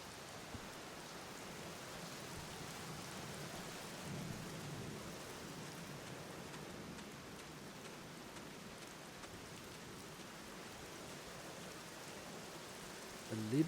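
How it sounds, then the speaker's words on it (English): Steady rainfall hisses in the video game The Black Mirror while low thunder rumbles faintly underneath, the whole storm soft and distant with no talk. "Because it was raining. Oh, it still is."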